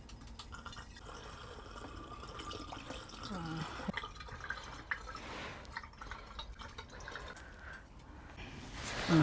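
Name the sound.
strained ginger wine poured into a bottle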